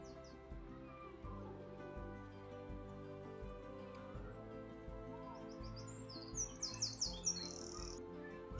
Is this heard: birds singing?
yes